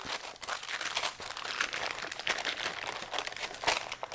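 Plastic wrap crinkles and crunches as it is peeled off a square burger patty for a copycat Wendy's bacon pub burger, a steady close rustling that continues throughout with no talk.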